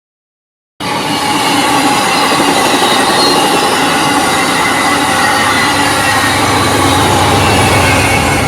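A train runs along the tracks in Chatsworth, Los Angeles, starting abruptly and rumbling loud and close with steady wheel noise and faint squeal for the whole stretch.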